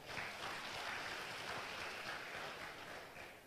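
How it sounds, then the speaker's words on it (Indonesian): A church congregation applauds in a sustained, dense wash of many hands clapping together. The sound is faint and distant and fades slightly at the end, with no voices over it. "yang sepakat berikan tepuk tangan yang meriah"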